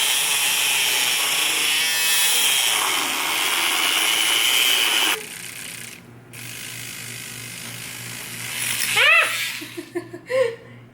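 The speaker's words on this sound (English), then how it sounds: "But I go ahead and start whisking it in." Non-dairy milk whisked into a turmeric latte, giving a fast, continuous scraping whir for about five seconds before it stops, followed by a few scattered clinks and thumps.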